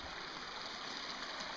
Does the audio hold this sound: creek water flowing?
yes